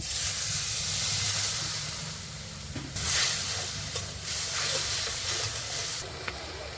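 Water splashes into a spice paste of chili powder and ground green chili frying in oil for a fig curry. It sends up a loud, continuous sizzle and hiss, with fresh bursts of steam and stirring noises close by.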